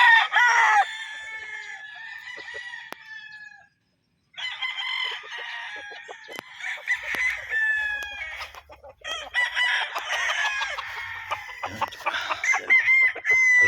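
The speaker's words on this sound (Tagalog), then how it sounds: "para makita nyo po kung gaano kaganda ang mga manok ni Princess" Mt. Banahaw bloodline gamefowl roosters, Gull and Butcher, crow repeatedly and cluck nearby, with loud, drawn-out calls overlapping one another, broken by a brief silence, and low clucks in between.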